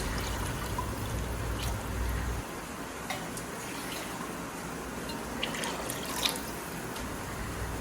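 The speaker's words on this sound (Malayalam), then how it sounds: "അരിയുടെ ഇരട്ടി വെള്ളം നമുക്ക് ഒഴിച്ച് നന്നായി തിളപ്പിക്കണം" Water pours in a steady stream into a cooking pot for about two seconds, then stops, leaving scattered faint drips and trickles.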